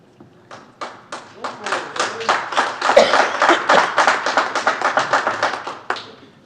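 Applause at a city council meeting, a rhythmic series of distinct hand claps that builds from scattered claps into steady clapping, then stops abruptly.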